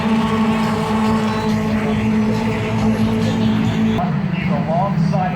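IndyCar race cars roaring around the Mid-Ohio Sports Car Course, a steady, loud engine drone that holds throughout and then shifts pitch as the cars pass, with voices talking over it.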